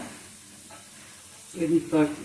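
Soft sizzling from a pan under quiet background, then a couple of louder scraping stirs near the end.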